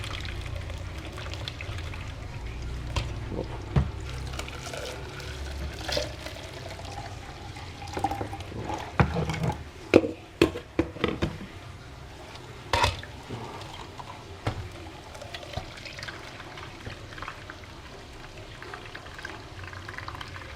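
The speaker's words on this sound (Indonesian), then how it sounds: "larutan bawang merah bisa dicampur dengan air 1 liter ya." Water is poured into a shallot solution for a plant-rooting mix: a continuous splashing pour with gurgles and a few louder sloshing bursts midway, close and steady throughout, with no voices.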